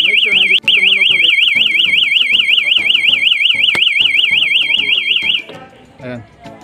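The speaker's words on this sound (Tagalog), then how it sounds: "Automatic mag-a-alarm yan." A heat smoke detector fire alarm in a training installation sounds a loud, continuous warbling electronic tone for about five seconds, then cuts off, leaving background voices and faint rustling.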